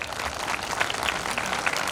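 An audience at a Hindu community gathering in Shajapur applauds in a steady, dense wash of clapping, moderately loud and continuous, with no voices over it.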